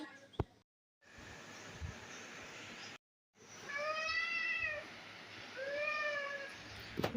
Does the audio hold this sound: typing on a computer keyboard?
no